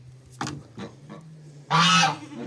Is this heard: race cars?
no